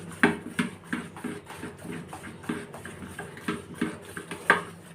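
A spoon stirring rava dosa batter with salt in a bowl, a steady rhythm of light scraping clinks against the dish, close and fairly quiet.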